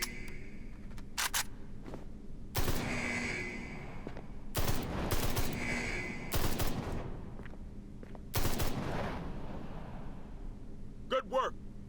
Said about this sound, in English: This is the dinkiest little SMG.